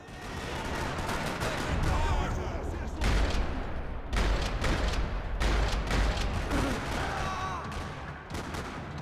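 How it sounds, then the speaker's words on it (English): Max Payne 3 gameplay in a parking lot: dense, rapid gunfire rattles almost continuously, with bursts of shots and heavy low booms layered over a busy, chaotic background. "Another parking lot rattling with gunfire."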